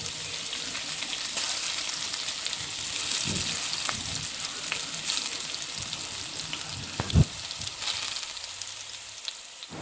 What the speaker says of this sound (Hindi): अब जल्दी से फटाफट इसको फ्राई करते हैं।